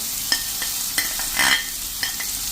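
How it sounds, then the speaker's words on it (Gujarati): Marinated okra tipped into a pan of crackling fenugreek seeds and cumin: a steady, close sizzle of frying with a few sharp scrapes and clinks of stirring and a brief louder burst midway, no talking. "જે આપણે આ મેરિનેટ કરેલો ભીંડો છે ને એ આમાં સીધો નાખી જ દેવાનો છે મસાલા સાથે"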